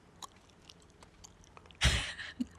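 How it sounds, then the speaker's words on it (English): Loud gum chewing close up, a burst of wet smacking and squishing mouth sounds that rises suddenly after a quiet stretch and trails off with a final smack. "have to chew so loud. Snipers chew gum."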